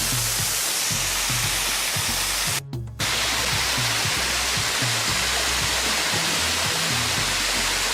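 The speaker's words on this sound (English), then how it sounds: "beautiful waterfall down there." A waterfall roars as a dense, steady rush of water, loud and close with a brief dropout midway.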